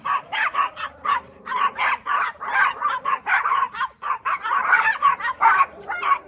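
Several chihuahuas bark rapidly and repeatedly at another dog on a beach in the Playa Chiquita area of Sosua, loud and close, with a rooster-like yelping quality throughout.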